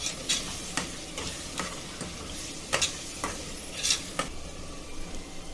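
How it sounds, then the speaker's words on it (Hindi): Ground spices being fried and stirred in a pan for zafrani biryani: a faint steady sizzle under a series of spaced scraping strokes of the spoon against the metal, close by, with no talking. "मसाले को भूनेंगे"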